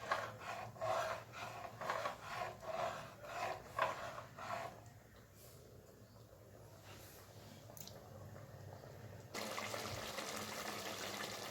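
Chicken biryani made with basmati rice is stirred in a pot, a faint rhythmic scraping and rubbing repeating several times, then a soft wet hiss.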